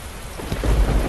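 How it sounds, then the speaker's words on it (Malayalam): Rain falls with a low thunder rumble swelling near the end, the steady patter of drops running under the deep roll, with no one speaking. "മഴ പെയ്യുന്നുണ്ട്"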